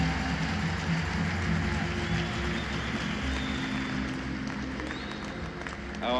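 A congregation at Mass in Holy Family Basilica claps in a sustained, even roar that fills the church throughout.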